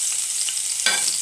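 Garlic frying in a pan at the start of a chicken aloha dish, a bright steady hiss that swells briefly into a louder sizzle, short and close with no voices.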